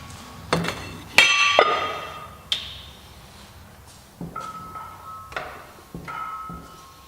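Five-pound metal weight plates are dropped onto a test load, ringing out in a series of sharp clanks and bright metallic clinks, some with lingering tones, spaced irregularly over several seconds.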